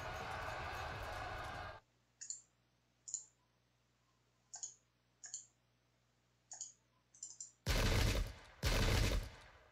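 Musket volleys in the Pike and Shot strategy game, Lützen 1632 battle: a loud rushing burst, a series of sharp scattered pops and cracks, then two heavy roaring volleys, no voices.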